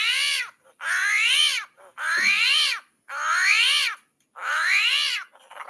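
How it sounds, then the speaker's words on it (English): Cats yowl in long, drawn-out rising-and-falling wails, five loud, close cries separated by short silences. "Angry cats."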